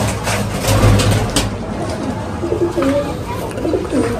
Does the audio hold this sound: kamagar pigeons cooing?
yes